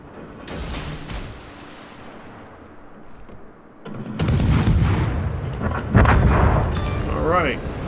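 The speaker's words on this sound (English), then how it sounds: "Enemy destroyer blown up." An enemy destroyer blown up in World of Warships, heard as heavy booming blasts and rumbling explosions, with a fading early blast, then louder, denser detonations swelling in the second half and a whistling, warbling effect near the end.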